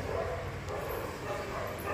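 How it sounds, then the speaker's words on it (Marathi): Dogs bark repeatedly outside a home, a steady run of yapping and bow-wow calls with faint whimpers, moderately loud against a constant background hum, with no talking. "कुत्रे एवढे भुंकतात ना, रात्र दिवस भुंकत राहतात।"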